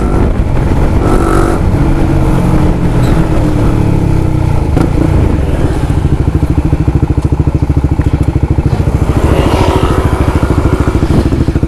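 A Honda CBR150R motorcycle with a Yoshimura Alpha carbon exhaust rumbles loud and close, revving up and settling back, then holds a throbbing, pulsing idle to the end.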